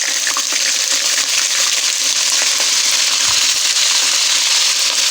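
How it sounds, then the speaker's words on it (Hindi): Garlic-ginger paste sizzles steadily in hot oil in a pan, a loud, continuous crackling hiss with occasional faint clinks, no voices. "अब मैं उसी ऑयल के अंदर लहसुन अदरक का पेस्ट डाल देती हूँ"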